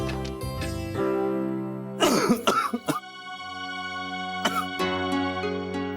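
A person with breathing difficulty coughs and clears their throat several times in harsh bursts, with a steady musical background underneath, in a TV drama scene.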